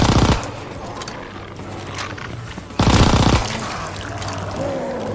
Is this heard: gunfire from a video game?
yes